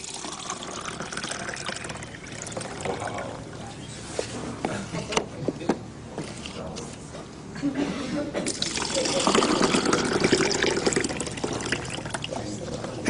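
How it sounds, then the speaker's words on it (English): Running tap water splashes and trickles as fruits and vegetables are rinsed in Kangen water in a sink, a continuous wash that grows fuller and louder toward the end, with a voice speaking over it. "if you wash your fruits and vegetables in this water"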